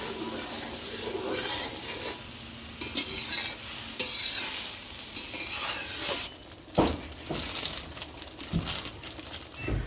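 Masala with cashew paste and milk cooks in a pan for paneer: a spatula scrapes and stirs steadily and close over a soft, ongoing sizzle, with a few sharper knocks against the pan.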